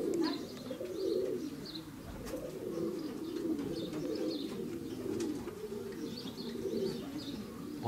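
Soft, continuous cooing of several racing pigeons close by in a loft, overlapping throat-deep calls with a few faint chirps and rustles in the background.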